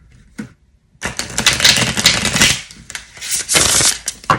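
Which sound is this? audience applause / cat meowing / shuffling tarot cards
shuffling tarot cards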